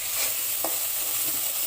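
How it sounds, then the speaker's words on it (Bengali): Ground cumin, garlic and onion paste hits hot oil after fried onions in a pan for a mrigal fish curry, giving a steady, close sizzle with a faint stir partway through. "এখন বেটে রাখা জিরা রসুন পেঁয়াজ দিয়ে দিলাম।"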